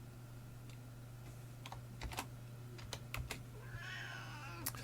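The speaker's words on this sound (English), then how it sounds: "my cat's meowing" A cat meows in a quiet room, with a drawn-out call near the end, while computer keyboard keys clatter in scattered bursts nearby.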